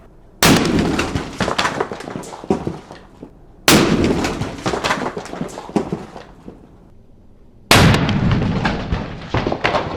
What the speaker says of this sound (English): What was interesting about that blast is all this chocolate here was down on the ground and projected forward from the bunny blast.